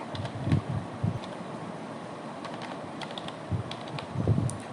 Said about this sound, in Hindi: आपने पैराग्राफ से टाइप करना है।